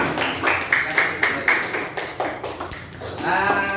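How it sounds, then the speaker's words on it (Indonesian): A small class of students claps in a quick rhythmic pattern of bursts, nearby, with a voice briefly heard at the end. "Tepuk tangan."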